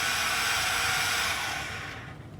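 An RC airplane's electric propeller motor whines loud and steady, then cuts off as the fail-safe triggers on signal loss, the sound fading away over the last half second.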